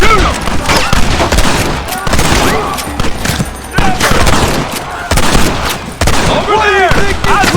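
Rapid bursts of gunfire from several weapons crack through a chaotic shootout in the video game Red Dead Redemption, loud and close, with sharp repeated shots. Voices shout in the middle of the fire.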